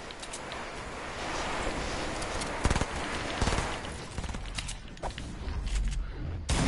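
Rapid gunshots in a shooting video game crackle in dense, uneven bursts over a steady background roar, with a few louder cracks standing out and the firing picking up toward the end.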